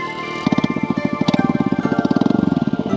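A motorcycle engine idles and revs with a rapid, steady pulsing throb, close and loud, the beat quickening slightly over a few seconds.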